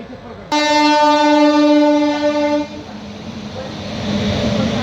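A loud, sustained train horn blares for about two seconds at a railway station in Prayagraj, then fades into low rumbling engine and station noise.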